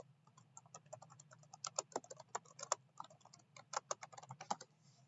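Quick, quiet clicking of computer keyboard keys as a search is typed, with irregular close taps in short bursts and no talking.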